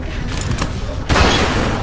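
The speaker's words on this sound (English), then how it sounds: "Vince! Fire the fucking gun!" Loud gunfire bursts from a gun in The Walking Dead Telltale game's 400 Days episode, a dense blast arriving about halfway through over an already noisy, rumbling scene with no talk.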